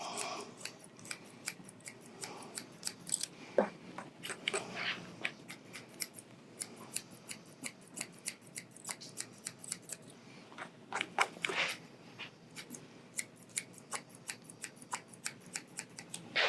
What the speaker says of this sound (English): Make sure you know the technique of shear over comb.